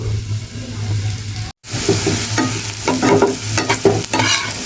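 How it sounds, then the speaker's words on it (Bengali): Onions frying in a pan for bhorta, a loud continuous sizzle with stirring scrapes and clinks, briefly cut off near the start and then resuming close by. "আগে পেঁয়াজগুলো ভেজে নিই সব ভর্তার জন্য"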